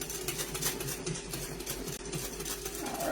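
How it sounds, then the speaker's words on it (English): Electric mixer whipping a bread pudding mixture until frothy, a continuous buzzing motor hum held steady throughout. "Let me get this whipped in here. So it's frothy."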